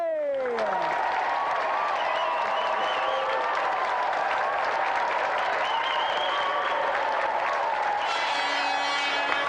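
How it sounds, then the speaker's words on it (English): A crowd claps steadily for several seconds, a continuous wash of applause with a few whistles and tones ringing over it. "let's give another round of applause for Thomas and Christopher Celestine and Vic"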